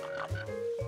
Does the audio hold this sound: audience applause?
no